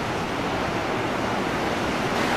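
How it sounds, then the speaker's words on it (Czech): Fountain water sprays high in Las Vegas, a steady, dense rushing hiss like pouring surf, fairly close and continuous throughout with no voices. "Jsou tady různé fontány, hraje tady hudba, voda stříká do výšky."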